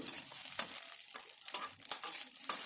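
Egg bhurji frying over high flame in a pan, with quick, repeated scraping stirs over a bright, continuous sizzle, close and loud with no talk.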